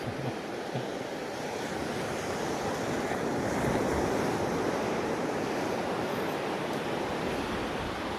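Ocean waves surge and wash steadily into a beach cove at Puerto Azul, Ternate, a continuous loud roar of surf mixed with wind buffeting the microphone, with no voices.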